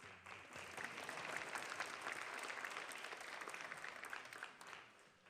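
Audience at a school board meeting applauds student orchestra members, a dense, even burst of many hands clapping that holds steady for several seconds before fading at the end.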